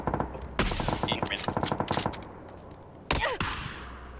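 Rapid bursts of automatic gunfire in a shooter video game: a steady rattling string of close shots, a pause, then a couple of sharp louder single reports with a fading tail.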